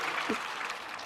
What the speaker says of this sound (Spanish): Vamos a dar gran gloria a Dios con aplauso.